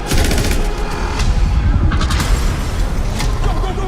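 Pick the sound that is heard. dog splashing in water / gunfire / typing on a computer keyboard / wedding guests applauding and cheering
gunfire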